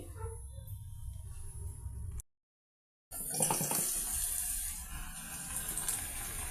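Tap water runs steadily into a sink as taro roots are rinsed of soil, a continuous close splashing that cuts out for about a second and then resumes with brighter gushing.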